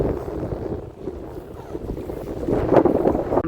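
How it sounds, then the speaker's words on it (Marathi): Strong wind buffets a rolling fishing boat out at sea, a constant roaring gust noise with waves and hull sounds beneath, swelling louder toward the end, no talking. "आज पण वारा खूप जास्त असल्यामुळे बघा बोट पण रोलिंग करते"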